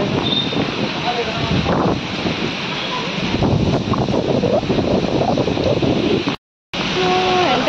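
Strong wind buffets a microphone outdoors by a busy market gate in Delhi, a loud, steady roar that lasts throughout with a brief cut-out near the end.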